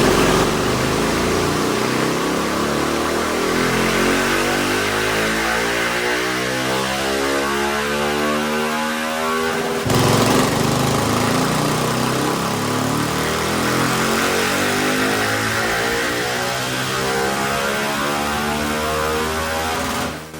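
A 2023 GasGas SM 700 motorcycle engine revs hard on a dyno, its rising harmonic whine sweeping upward repeatedly in two long pulls, loud and close with no talk.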